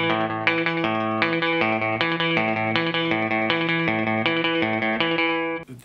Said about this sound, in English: This one especially, you can hear some slapback echo on there.